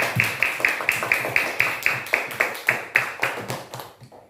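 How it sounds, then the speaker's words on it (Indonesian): Classroom students clapping hands together in a steady, rhythmic beat, roughly two claps per second, loud and close, stopping abruptly after about four seconds. "Tepuk tangan semuanya."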